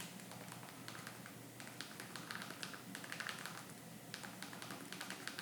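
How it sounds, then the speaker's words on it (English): Quick, light clicking of small keys on a Clicks keyboard case for an iPhone, typed in rapid bursts, close and fairly quiet, with brief pauses between runs. "the videos you see now is my second time typing on the Clicks case"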